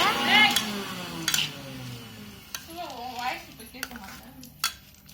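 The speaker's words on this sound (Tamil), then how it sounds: "கொஞ்சமாக கல்லுப்பு எல்லாத்தையும் சேர்த்து நல்லா மிக்ஸ் பண்ணுங்க" Roasted gram and rock salt being stirred in a bowl, with scraping and clinking of a utensil against the dish in short bursts, mixed with faint background voices.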